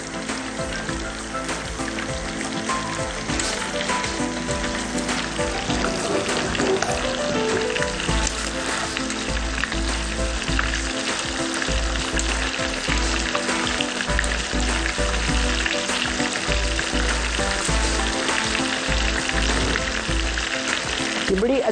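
Rohu fish frying in a pan gives a loud, steady, dense sizzle that holds unbroken the whole way through, with light crackling and popping on top and no talking.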